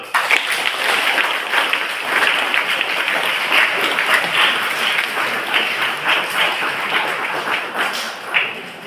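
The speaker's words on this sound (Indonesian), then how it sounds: "Tepuk tangan dulu." A church congregation at Holy Thursday mass applauds loudly for the whole stretch, with dense, sustained clapping from many hands filling the space.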